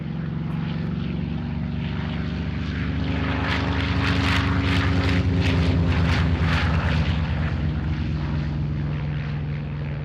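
A P-47 Thunderbolt fighter plane's propeller engine drones loud and continuous, a deep steady roar with a slight swell and fade as it passes overhead.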